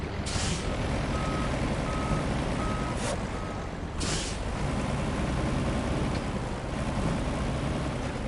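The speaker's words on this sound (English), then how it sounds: "Guess I will get the old truck turned around here real quick." A truck's reversing alarm beeps in a steady four-pulse series over loud, constant engine rumble, with sharp hisses of air brake release cutting through.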